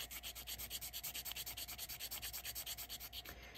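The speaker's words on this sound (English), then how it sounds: "you can sand this down" Resin jewelry being sanded by hand, a faint, close, rapid back-and-forth rubbing with a steady rhythm of about eight strokes per second, no voices.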